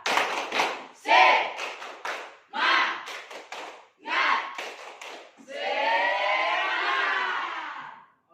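A group in a classroom performs a rhythmic clapping chant, bursts of claps alternating with chanted voices in a patterned beat, ending in a sustained shout of many voices.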